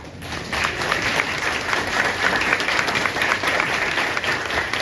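A hall audience at a school last-bell graduation ceremony in Ukhta, Komi Republic, applauds loudly and steadily, a thick continuous wash of clapping that swells at the start and holds evenly throughout.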